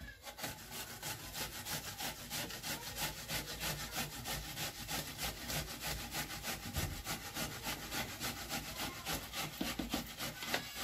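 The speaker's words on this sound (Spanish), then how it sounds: "está pasando las cebollas por el rallador" Onions being grated on a kitchen grater while chicken stew is prepared, giving a steady, close, rhythmic rasping scrape of repeated strokes that runs continuously with no talk over it.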